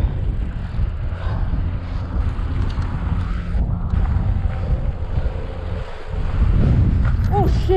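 Strong wind buffets the microphone on the Cajon Pass single-track trail near Hesperia, California, a loud continuous rumbling roar that swells near the end.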